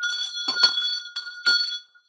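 A small bell rings indoors, several bright metallic strikes with lingering ringing tones, close and distinct, then fading to quiet.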